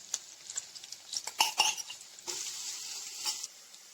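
Ginger-garlic paste hitting browned fried onions in a pan for chicken dry, a bright crackling sizzle with scattered spoon scrapes and clinks, loud and close, settling into a steady fry with no talk.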